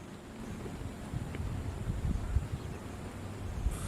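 Generator running at a lakeside campsite in the American Southwest, a low steady rumbling drone mixed with wind noise on the microphone, fairly faint and continuous with no talk.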